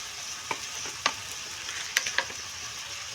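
Pumpkin cooked with rohu fish head fried and stirred in a pan, a steady sizzle with scattered sharp scrapes and taps of the spatula, near and fairly loud, no voices.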